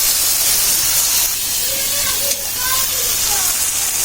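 A spice paste of ground coriander mixed with water hits a hot wok for a fish curry with greens, giving a loud, steady hissing sizzle throughout, with faint clinks of stirring in the background.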